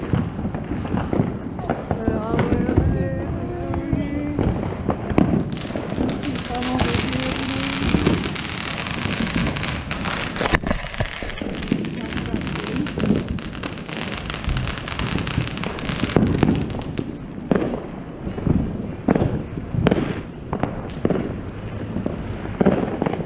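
Fourth of July fireworks in Las Vegas going off in the distance as a continuous run of bangs, crackles and pops, with people talking nearby over the display.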